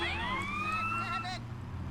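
Ambulance siren from Grand Theft Auto: San Andreas, wailing up and down across about a second and a half under steady engine and game background noise, with a voice faintly present.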